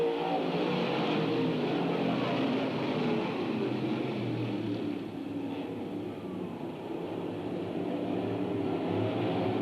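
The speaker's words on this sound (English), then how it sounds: "Out of turn 2, Flying Brian pulls out to about a 10-car length cushion over the rocket of Schweitzer" Stock cars, including a 1995 Monte Carlo and a Mopar Dodge, racing at Bedford Speedway: a continuous, dense engine roar from the field of cars, steady and somewhat distant, with no break.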